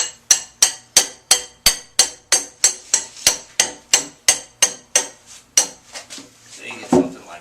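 A hammer drives 16-inch lengths of 1/2-inch rebar stakes into holes, roughly twenty sharp metallic strikes in a steady quick rhythm, close and loud, then a short shuffling noise at the end.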